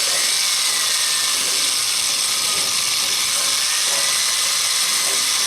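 An old, heavy power drill grinds continuously while boring holes in a Napoleon gas grill burner, a loud and dense mechanical whir close to the microphone that holds steady throughout.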